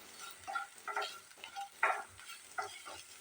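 Spiced chicken with turmeric and masala stirred in a pan, a soft sizzle broken by irregular scraping strokes of the spoon, quiet and close with no talk.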